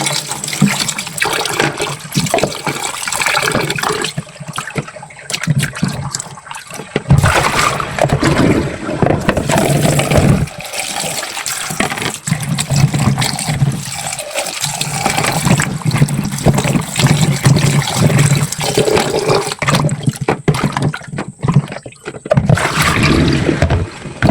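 Okra is washed under running water, a loud continuous gush and splash with brief pauses and sloshing as the pods are handled, with no voices.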